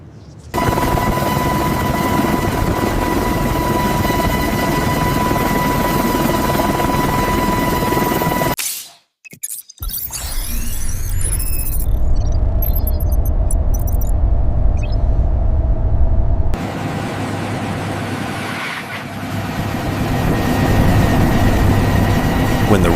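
An Airbus helicopter sits on departure with rotor and turbine engine running, a loud steady whine and whooshing drone that cuts off briefly mid-clip and then resumes with a rougher, lower rumble.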